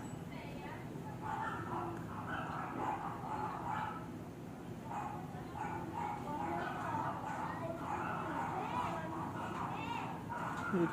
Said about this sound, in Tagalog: Ito yung aking husky aso.